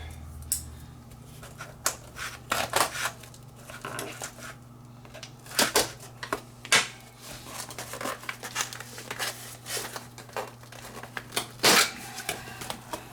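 Tape is peeled and torn off a returned card-grading package in a series of sharp, close rips and crinkles of plastic and cardboard, irregular bursts over a quiet room hum.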